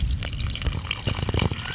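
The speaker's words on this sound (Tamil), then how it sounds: "தேவையான அளவு தண்ணி." Water is poured into a spice masala for a fish fry at a fish stall by Amaravathi Dam: a steady splashing, trickling flow lasting throughout, close and fairly loud, with no talking.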